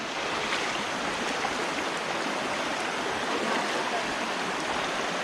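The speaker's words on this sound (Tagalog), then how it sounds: "Lakas ng agos ng tubig." Strong current of water rushing at Eva Falls in Bulacan, a steady, loud, broadband roar that stays constant from start to finish with no other sounds over it.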